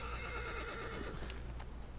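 A horse in the video game Shadow of the Colossus whinnies loudly, with clip-clop hoofbeats and a steady game ambience running underneath.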